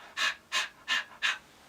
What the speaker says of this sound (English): Panting.